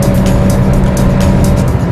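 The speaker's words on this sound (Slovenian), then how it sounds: "Brezstopenjski menjalnik pomeni, da je hrupa takole kar precej." Petrol engine of a 2010 Honda Insight 1.3 with CVT gearbox, droning steadily at high revs with a constant tonal hum and road roar, loud and continuous without pause.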